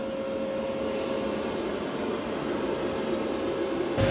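A Mova P10 Pro Gen 2 robot vacuum cleaner runs indoors with a steady, loud motor whir and a constant high tone, unchanging throughout.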